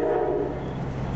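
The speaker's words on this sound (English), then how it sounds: "Man, that train's annoying." A train passes nearby with a steady, loud rumble and low mechanical drone, briefly, with no talking.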